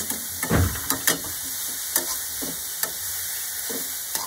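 Salted grated carrots being stirred in a pan, with a faint steady sizzle and a few sharp scraping knocks of the spoon against the pan, no talking.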